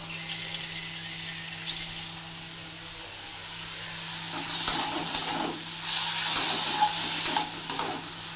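Water running from a tap as salty hands are rinsed in a home kitchen, a steady soft stream with brief splashy bursts toward the end, no talking.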